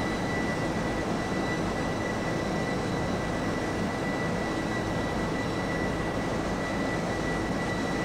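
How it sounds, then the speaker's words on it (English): Jet airliner engines in the X-Plane 11 flight simulator, with a Boeing 757 or Airbus A330 cruising on a long route. A constant loud whine and roar drones evenly throughout, carrying steady tonal lines and no voices. "All you hear is engines."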